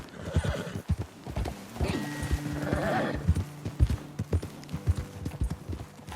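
Horses in Red Dead Redemption 2 clip-clop in a rhythmic stream of hoofbeats, with a loud whinny partway through, close and prominent.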